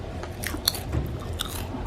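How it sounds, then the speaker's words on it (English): Crisp crunching bites into chips, a few sharp crackly bursts over quiet background noise, close to the listener, with no talking. "You can hear a crunch now."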